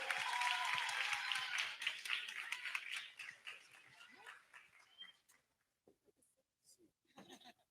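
An audience applauds at a favela communication event, a dense burst of many hands clapping that thins out and fades after about five seconds into scattered claps and quiet.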